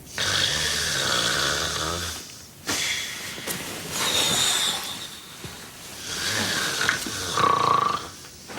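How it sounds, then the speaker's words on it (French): A person snores through a quiet indoor moment in a French-language drama series, with two or three slow, drawn-out breaths rising and falling at an even pace, up close, with no talking over them. "Tu ronfles."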